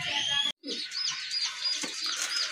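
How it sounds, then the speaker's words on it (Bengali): Raj Golla pigeons kept for breeding give soft chirps and coo-like calls, close by and fairly faint, repeating in short bursts with a brief silent gap. "দেখেন এক জোড়া রাজগোল্লা কবুতর"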